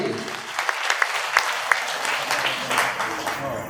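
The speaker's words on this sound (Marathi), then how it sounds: "जोरदार टाळी" A crowd at an Ashadhi Wari dindi devotional gathering claps loudly with both hands raised, giving dense, steady applause with a few sharper claps standing out over the background.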